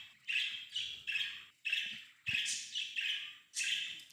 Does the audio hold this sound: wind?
no